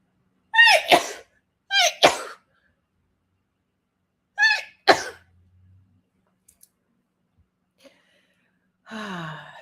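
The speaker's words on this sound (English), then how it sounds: "excuse me, I always sneeze in threes." Three sneezes in a row, each with a quick breathy intake before the sharp burst, a couple of seconds apart, then quiet until a voice starts at the end.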